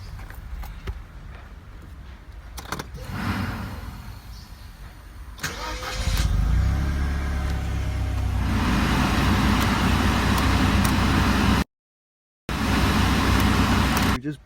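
The electric air-conditioning blower motor of a 1996 Mercedes-Benz W202 whirs up into a loud, steady rushing hum after quieter mechanical noises, running continuously apart from one short gap near the end.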